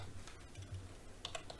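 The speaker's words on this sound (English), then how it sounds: "So that we don't have to keep typing that in." Faint, soft typing on a computer keyboard, a quick run of light key taps over low room hiss.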